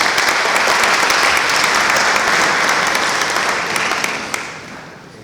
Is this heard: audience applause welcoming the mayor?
yes